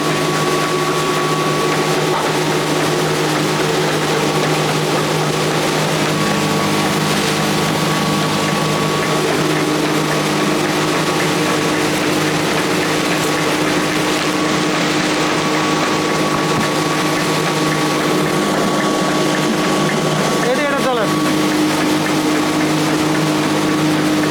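An automatic steel-body rice mill with three screens runs with a loud, steady mechanical drone. It holds a constant hum with a few tonal whines and stays unbroken the whole time, close up and with no voices.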